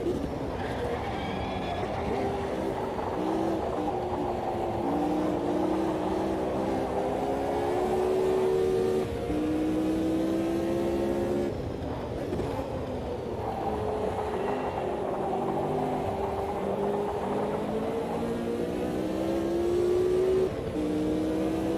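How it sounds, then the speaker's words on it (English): Race cars in a sim racing video game roar steadily for the whole stretch, engines rising and falling in pitch through shifts and corners, loud and continuous with several cars overlapping. "The cars sound fantastic."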